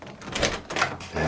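A door opening from a small hallway into a studio, a short nearby scrape and knock of the door moving, with no talk.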